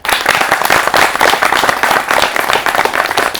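A student audience in a television studio claps loudly and densely without pause, with no talking over the applause.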